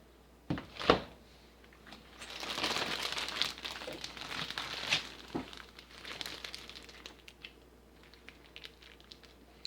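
Plastic Ziploc bag crinkling and rustling up close while cold process soap batter is piped from it, with one sharp crackle early on and then a longer burst of busy, uneven crinkles that tapers off.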